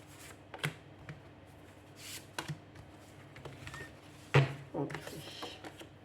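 Tarot cards being shuffled and drawn for a reading, with soft papery flicks and a sharper card snap near the end, close and quiet, while someone speaks French.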